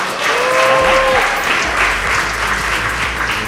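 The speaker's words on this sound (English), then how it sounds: "give them a round of applause" An audience at a team meeting breaks into applause, a full burst of clapping that swells quickly, holds steady and tapers slightly, with a brief cheer or whistle near the start.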